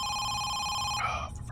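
A telephone bell rings in steady repeated trills, loud and close, breaking off near the end as a voice begins.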